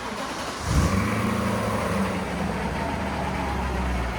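A BMW M5 engine swapped into a BMW station wagon with a muffler delete cranks and fires up about half a second in, then settles into a loud, steady, deep idle rumble.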